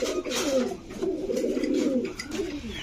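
Pigeon cooing close by in a bird enclosure, a few soft, rolling low coos in repeated bursts with little else around.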